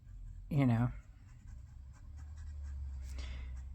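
A fountain pen nib inked with Birmingham ink scratches faintly across paper, a soft, continuous rasp under and between brief bits of speech.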